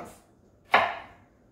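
A single sharp knife chop through the hard core of a pineapple against a cutting board, close and crisp, with a brief fading ring afterward.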